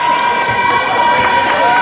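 A crowd at a volleyball match cheers loudly and continuously, a dense roar of shouts and applause close by.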